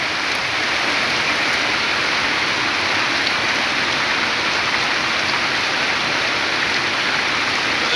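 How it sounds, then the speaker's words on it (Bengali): Heavy rain pours down around a large banyan tree shelter in the middle of Gaoyaler Bazar in Keranipara, Hatiya, making a loud, constant, dense hiss of falling water with no talking. "অনেক বৃষ্টি পড়তেছে।"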